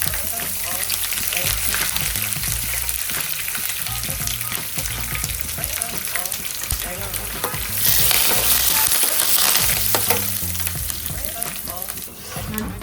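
Curry leaves and dried red chillies crackle steadily in hot oil for a tempering, with chana dal and a pinch of asafoetida. The dense, loud frying sizzle runs unbroken throughout, with a brief surge of spattering midway.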